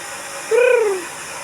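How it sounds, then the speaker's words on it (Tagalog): One bird gives a single clear, tonal call lasting about half a second, near and fairly loud, against quiet background hiss, by the stairs at the Mirror of the World in Sikatuna, Bohol. "may mga ibon pa rito."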